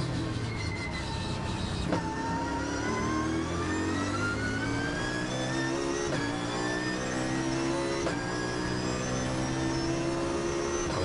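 A race car at Spa-Francorchamps during the 2011 Spa 24 Hours screams loudly, its engine note climbing and then dropping sharply as it shifts up through the gears, three clear upshifts in quick succession.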